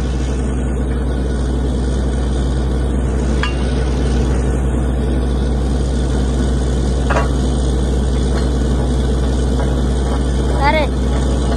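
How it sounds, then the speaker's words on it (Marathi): A borewell drilling rig truck engine runs loud and steady throughout, a constant low droning roar with a person talking over it. "बोरच्या गाडीचा आवाज मोठा असल्यामुळे माझा आवाज काही निघत नाही"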